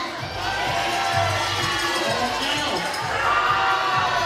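A pickleball playoff crowd in Arizona reacting to a close line call, a sustained murmur and shouting of many spectators with voices rising and falling, loud and near throughout.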